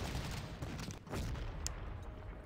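Distant artillery fire in the wartime strategy game Panzer Corps, a steady rumbling barrage of low booms with a few sharper cracks, moderately loud and without talk.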